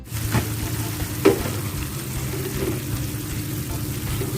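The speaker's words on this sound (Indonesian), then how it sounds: "Masak sampai mendidih, sampai setengah matang." Pumpkin dish simmering in a pan toward a boil, a steady close sizzling and bubbling with a couple of soft utensil knocks, no talk.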